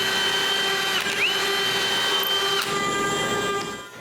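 A power drill whines steadily while boring pilot holes for screws in wood for a staircase gate, a close, continuous motor tone with brief pitch shifts as the bit bites, tapering off at the end.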